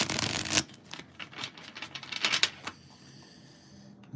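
Playing cards are riffled in a quick burst, followed by several soft flicks and taps, close up, then near silence.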